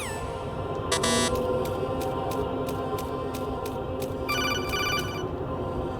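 An incoming call rings in the video game Metal Gear Solid 2, sounding as short electronic trilling bursts over a dense, steady game background, fairly quiet and without talk.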